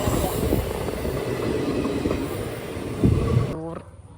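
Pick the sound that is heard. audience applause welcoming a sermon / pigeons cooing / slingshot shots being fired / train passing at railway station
train passing at railway station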